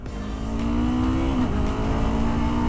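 Sport bike engine on a race track, a loud, close, high-pitched whine that holds steady then dips briefly before climbing again, with no talking.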